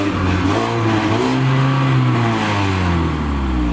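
Mazda 3 shitbox being prepared for the Nürburgring revving hard toward its rev limiter, a loud, close, steady engine roar with pitch climbing and wavering over the few seconds, no voices.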